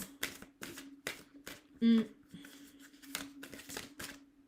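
Tarot cards are shuffled and drawn during a French-language reading, giving a string of brisk card flicks and slaps with a brief tonal blip in the middle.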